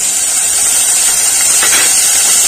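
A splash of water hits a hot pan of garlic, onion and green chili paste on low gas, producing a loud, continuous steamy hiss and sizzle with a brief bubbling flare midway.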